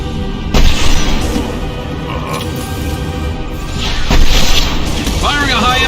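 A heavy, booming shot rings out in a Normandy World War II video game, followed by a second deep blast amid continuous battle noise, with a voice speaking over it.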